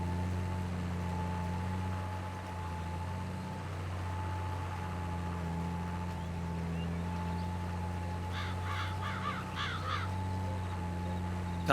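Crows cawing in a Farming Simulator 22 farm scene: a quick series of four or five caws near the end, rising over a steady, loud tractor engine drone.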